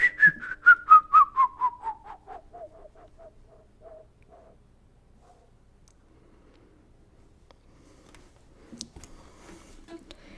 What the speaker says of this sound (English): My whistling nose.